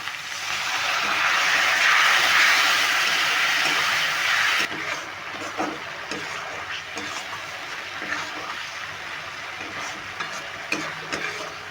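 Water goes into a hot pan of taro corm curry with a loud burst of hissing sizzle that fades after a few seconds to quieter bubbling and clinks. A voice talks faintly in places.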